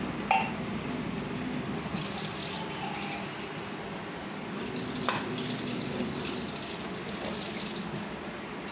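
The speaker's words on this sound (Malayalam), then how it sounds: "എന്നിട്ട് അതിൽ കുറച്ച് വെള്ളം ഒഴിക്കുക" Water runs and pours steadily from a tap into a vessel over chopped yam pieces being readied for a curry, a close continuous gush with small splashy bursts and no talking.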